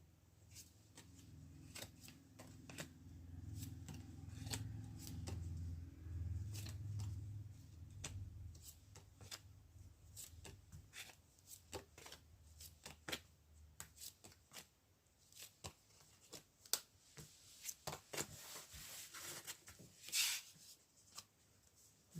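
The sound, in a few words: tarot cards being shuffled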